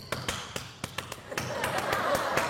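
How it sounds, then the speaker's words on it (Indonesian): A group claps out the rhythmic Indonesian scout clap, a run of sharp, separated claps that blends into denser clapping, with light chuckling from the audience. "Itu tepuk pramuka itu bos."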